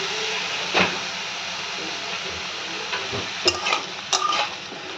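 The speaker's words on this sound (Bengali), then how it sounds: "এই সব কিছু দিয়ে আমি খুব ভালো করে নাড়াচাড়া করবো আর দিয়ে দেবো এর মধ্যে 1 চামচ নুন।" Mixed vegetables with green chillies fry in a pan under a soft steady sizzle, punctuated by several sharp spatula scrapes and knocks toward the end.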